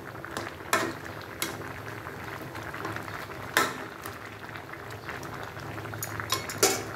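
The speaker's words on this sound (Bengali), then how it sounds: "এখানে এখন আমি চিংড়ি মাছ দিয়ে দিলাম।" Shrimp added to a pot of village-style curry bubbling quietly, with a soft low simmer broken by several sharp metallic clinks of a spoon against the pot.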